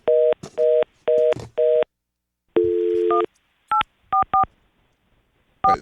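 Telephone keypad tones dialed in a quick series of short, distinct beeps, with a longer tone partway through, loud and close with silent gaps between presses, on a radio show line that seems not to connect.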